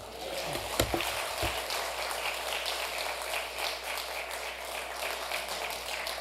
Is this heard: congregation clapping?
yes